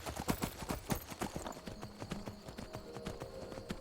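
Horse hooves clip-clop at a steady walking pace in the video game Skyrim, a close, regular stream of hoof falls over faint background ambience.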